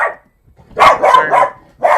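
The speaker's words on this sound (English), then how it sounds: "Sorry about the dog." A dog barking nearby, one sharp bark then a quick run of three barks and another at the end, loud and close with no talk.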